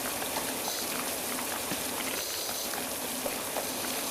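Pressure washer spray in Power Wash Simulator: a continuous, even hiss of water jet striking a surface, steady and fairly close with faint patters mixed in.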